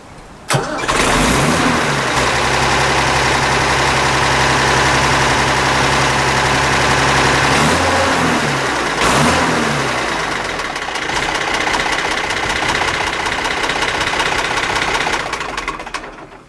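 A vintage tractor engine cranks and catches, then settles into a loud, steady idle that runs close and continuous for most of the clip, with a brief stumble partway through before ticking over evenly again.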